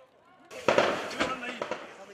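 Several sharp cracks of gunfire during an attack in Kenya, in quick irregular succession, echoing and somewhat distant, with no voices in between.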